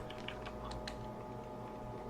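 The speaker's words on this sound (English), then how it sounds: "just start typing, type the word reg" Keys clatter on a computer keyboard as a short word is typed on a Windows 10 PC. A few light, quick clicks sit over a steady electrical hum and background noise.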